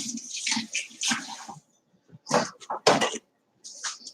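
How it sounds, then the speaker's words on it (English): Hands rinsed under a running kitchen tap in a home kitchen, water splashing in short bursts with brief pauses between, close and moderately loud. "Rinse my hands off."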